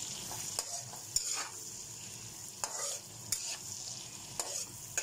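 Porcupine fish stew with pepper and bay leaves is stirred in a pot, giving regular scraping strokes over a soft continuous sizzle, close and fairly quiet.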